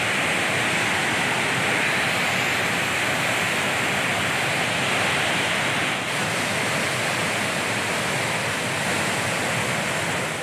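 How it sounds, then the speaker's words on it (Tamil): A flash flood roars over Amirthi waterfall in Vellore district after heavy Cyclone Nivar rain, a loud, continuous broadband rush of falling water that stays steady throughout. "வேலூர் மாவட்டம் அமர்தி அருவியில் காட்டாற்று வெள்ளம் ஆர்ப்பரித்து கொட்டுகிறது"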